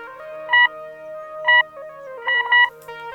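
Several short telephone keypad tones beep in quick succession over a steady electronic hum, clear and close.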